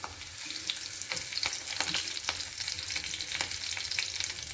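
Cumin seeds and curry leaves fry in a spoonful of oil in a pan, a steady close sizzle scattered with sharp pops and crackles.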